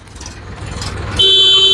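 Traffic rumbles on a national highway near Jammu, then a loud, close car horn blares in a steady sustained honk over the engine noise.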